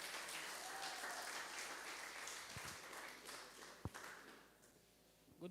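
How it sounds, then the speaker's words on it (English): A church camp-meeting congregation claps for Auntie Debbie after a health talk, a faint, distant patter that thins out over several seconds, broken by a couple of sharp knocks. "Let's clap for Auntie Debbie."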